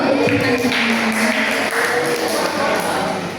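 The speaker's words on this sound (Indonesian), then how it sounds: "Kembali tepuk tangan dulu dong." An audience at a Ramadan religious talk breaks into applause, a continuous wash of clapping from many hands that slowly fades, with faint voices underneath.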